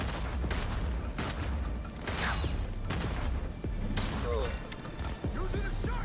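Shotgun blasts and weapon mechanisms in the Cyberpunk 2077: Phantom Liberty video game, a string of sharp irregular shots with mechanical clicks between them, while voices talk over parts of it.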